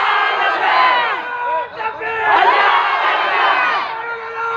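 A large crowd at a madrasa fundraising gathering shouts a religious slogan in unison, a loud sustained roar of many voices that dips briefly, then swells again.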